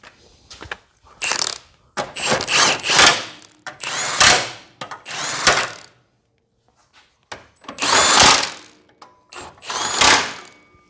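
Fourteen-millimetre oil pan bolts on a Honda Accord are tightened in repeated bursts of ratcheting clicks, close and loud, separated by short pauses.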